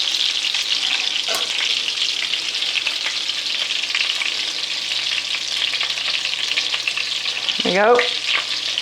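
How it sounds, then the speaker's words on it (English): Meatballs fry in a pan with a steady, close sizzle that holds throughout, with a brief scrape of a utensil near the end and a short spoken remark. "as we get this fried and I get all my meatballs in"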